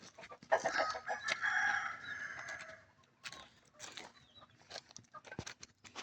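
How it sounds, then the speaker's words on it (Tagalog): Chickens cluck in short, irregular bursts, with a rooster's crow rising among them on a farm in Zambales, Philippines. The sounds are close by and there is no talking. "Yan guys, mga manok."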